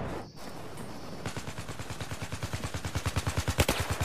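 Automatic gunfire from online Battlefield 4 on PS3 comes in a rapid, evenly spaced burst of shots that builds in loudness. A quieter game ambience precedes it, and there are no voices.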